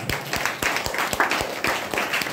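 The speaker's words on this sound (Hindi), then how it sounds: "उनके लिए जोरदार तालियां।" An audience at a gathering breaks into applause, a dense run of steady, fairly loud hand claps with no voices over it.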